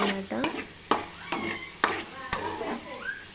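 Goat blood curry fried in oil in a pan, stirred constantly with a ladle: regular sharp scraping strokes about every half second over a soft sizzle, close and clear, with a little speech mixed in.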